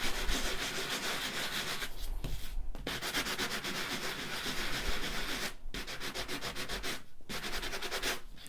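Embossed cardstock sanded by hand for a distressed vintage look, a steady close scratchy rubbing that runs continuously with a few brief pauses between strokes, no talking.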